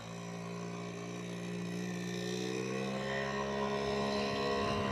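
A Suzuki FZ50 moped engine drones steadily while riding on local roads, a buzzing two-stroke note whose pitch rises gradually as it pulls, close and continuous without talk.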